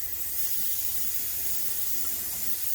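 Airbrush spraying Cobra Motor satin black paint onto a model car interior at about 20 psi, a steady close airy hiss that holds without a break, no talk.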